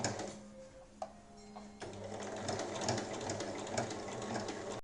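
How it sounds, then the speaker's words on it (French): A sewing machine topstitches 1 mm from the edge all around a small fabric basket, starting with a brief pause and then running in a steady, continuous whir with a fast mechanical hum, close and alone. "on va venir faire une surpiqûre tout le tour à 1 mm pour fermer et puis pour que ce soit plus joli"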